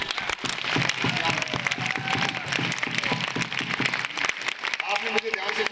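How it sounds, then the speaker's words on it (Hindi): An audience at an annual school function claps after a motivational speech. The applause is dense and sustained, with many hands clapping at once and fairly close. It fades slightly near the end as a voice begins. "आपने मुझे ध्यान से सुना, तालियां बजाई"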